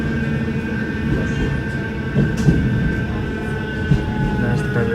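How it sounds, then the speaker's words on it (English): Manchester Metrolink tram near Manchester Victoria where the Bury and Rochdale lines meet, a steady rail rumble with a few faint clanks and a sustained tonal hum, a voice faintly under it. "and right on cue, there's a tram."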